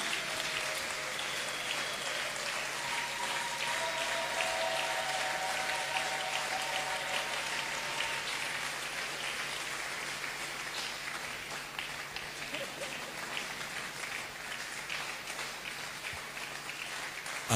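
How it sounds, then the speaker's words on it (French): A church congregation applauding, a steady wash of many hands clapping that holds for the whole stretch, moderately loud and heard from within the crowd, without distinct voices. "Acclamons-le."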